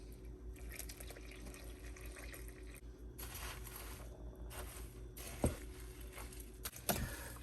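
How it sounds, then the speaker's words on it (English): Tap water runs and splashes into a cooking pot for homemade plant-based dog food, a moderate steady stream broken by brief pauses and a couple of sharp clinks near the end. "So then I add some water."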